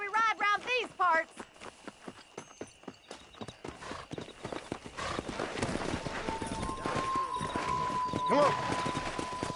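Horse hooves pound in a steady galloping rhythm in Red Dead Redemption, with a whinny near the end. Someone speaks briefly at the start, and the hoofbeats grow louder and busier as the ride picks up.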